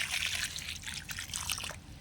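Water pours onto a potted flowering garden plant just fed with fertilizer and covered with soil, a steady trickling and splashing stream that runs close and continuous, then thins out near the end, with no talking.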